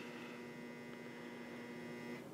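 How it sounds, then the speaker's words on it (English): A clothes dryer running in a basement gives off a steady, even electrical buzz with a constant hum underneath, quiet and unbroken throughout with no talking. "If you're hearing that buzz, that's the dryer because I am in the basement."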